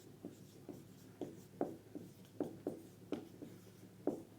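A pen writes by hand on paper during a physics lesson, a series of soft, close scratchy strokes in an irregular rhythm, about a dozen short bursts with quiet gaps between.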